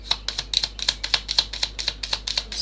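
Quick, regular crisp clicks and flutters of tarot cards being shuffled, about a dozen sharp taps in a steady rhythm, close by.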